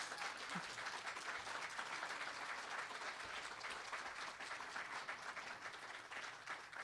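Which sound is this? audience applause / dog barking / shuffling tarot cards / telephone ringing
audience applause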